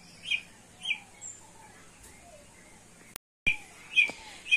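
Young blue eared pheasants give short, high chirping calls in a few spaced bursts, near and clear over a quiet background.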